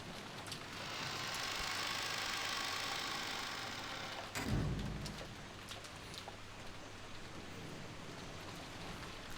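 Rain in the Umineko visual novel game: a steady wash of rainfall, louder at first and then easing after a low rumbling thud partway through, with no speech.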